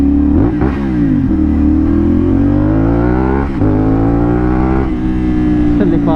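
CFMOTO 450SR motorcycle with an Akrapovic exhaust, engine revving loudly and close, pitch rising and falling through several gear-like sweeps in a continuous, throaty roar.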